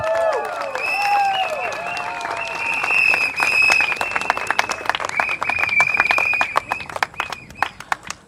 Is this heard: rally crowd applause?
yes